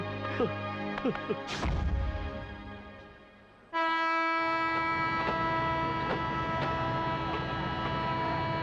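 Brief rail clatter and short tones at a railway station, then a loud, sustained train horn blares steadily nearby for several seconds.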